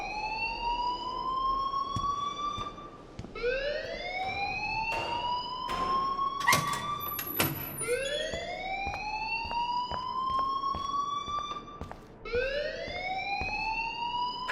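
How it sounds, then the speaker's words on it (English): Rising, repeating wail of a school alarm in the video game Life is Strange, sweeping upward in cycles every few seconds, steady and fairly loud, with a few sharp clicks in between and no talk. "please turn off that alarm since that's your job"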